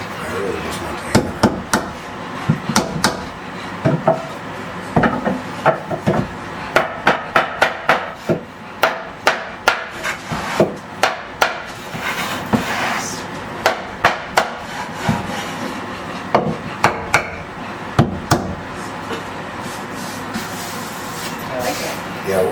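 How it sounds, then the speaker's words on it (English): A hammer strikes wood in quick irregular bursts of sharp knocks, close and loud, with people talking in between and over the blows. "I really just want the hammer."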